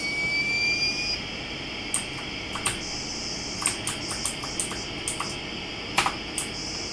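Retro video game airplanes make a rising synthetic whine as they take off. The whine is followed by a steady engine-like hum and scattered, quiet keyboard clicks.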